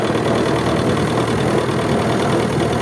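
A Cub tractor engine lugs down under load as it brakes differentially at slow speed, a steady, loud, rough rumble that continues without pause.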